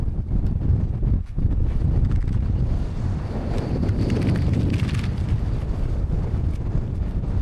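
Strong, gusty wind buffets the microphone at a high mountain tarn wild camp during a stormy spell, a loud continuous roar with surging rushes and no voices.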